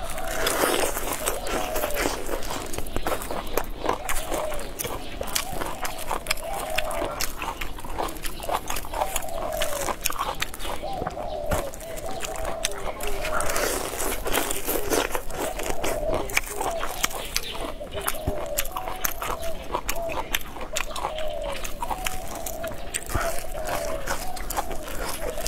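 Someone eating crunchy fried skewers bought in town, with repeated crisp chewing and crunching close up and some quiet talk between bites.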